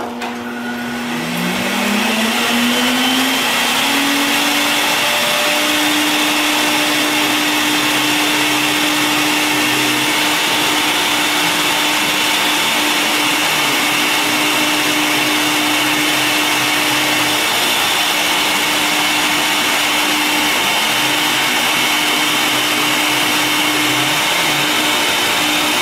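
Sirena water-filtration vacuum cleaner motor spinning up and running steadily, a loud continuous whine with a rising pitch at start-up that then holds constant, with no talking.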